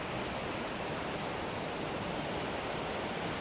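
Paddy's River Falls near Tumbarumba, NSW, gushing in a steady, dense roar of falling water, close and constant with no other sounds.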